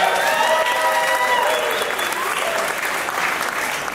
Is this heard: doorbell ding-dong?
no